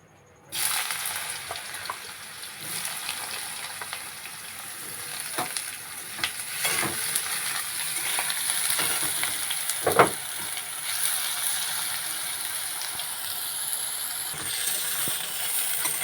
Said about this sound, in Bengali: মোচা ঘন্টর জন্য প্রথমে বেগুনটা ভেজে নেব।